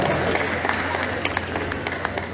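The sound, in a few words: audience applause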